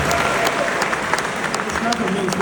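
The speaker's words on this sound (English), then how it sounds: "give her a applause" An audience at an event interview applauds in a dense, continuous round of clapping, loud and full, with voices faintly mixed in underneath.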